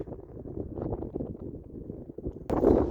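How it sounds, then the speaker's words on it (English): Warm desert wind gusting across an open roadside spot in Death Valley, a steady low rumble of wind buffeting close to the microphone, with a louder, harsher gust surging near the end. "It is surprisingly really windy here too."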